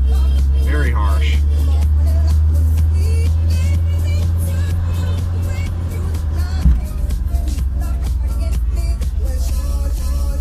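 A Mercedes W124 with a harsh-shifting automatic transmission drives along, a steady low engine drone from inside the car with an abrupt jolt partway through, while people talk over it.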